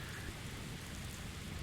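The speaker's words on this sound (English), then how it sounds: "it started pissing it down with rain" Steady rain falling in the game Dragon Quest Builders 2, a continuous, soft, even patter with no breaks and no talking.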